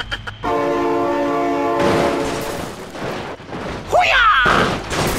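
Train horn in the BeamNG Drive driving game, a long steady multi-tone blast sounding loud and close, followed by a broad rushing passage of the train with a brief high screech near the end.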